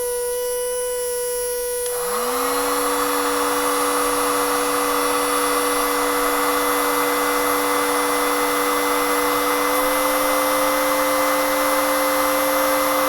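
A DC motor driven through an L298N driver spins up after a brief quiet start and then runs at full speed, a steady, loud, continuous whine with a strong tonal hum that holds constant throughout.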